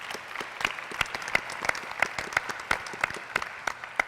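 Audience at an education event applauds: steady, fairly faint clapping from a crowd, with a few sharper individual claps and a rhythmic pattern of louder claps standing out near the front.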